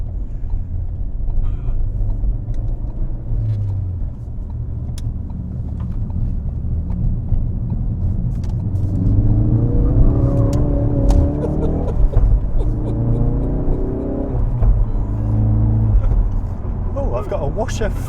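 A Ford Focus RS in drift mode rounds a roundabout, its engine a steady, close droning hum that swells slightly midway, with voices talking over it throughout.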